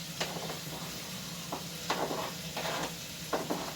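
Carrots and onions frying in a pot for plov, a soft steady sizzle beneath occasional stirring scrapes and clinks of a utensil against the pot, close but fairly quiet.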